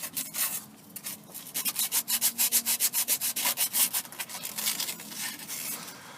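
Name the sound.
scrubbing clean the Rover 45 starter motor mounting surface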